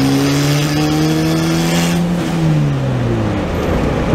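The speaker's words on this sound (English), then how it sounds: "I heard VTEC that time" A turbocharged Honda engine running at 10 PSI of boost revs hard from inside the car. Its loud, rising engine note climbs sharply into a harder-edged VTEC wail, then drops back as the revs fall. The sound is close and continuous, with no talking.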